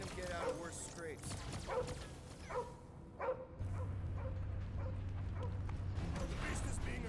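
Cosmo the dog in Guardians of the Galaxy barks and yips in a string of sharp, closely spaced barks over game noise, then a low steady hum takes over while fainter yelps continue.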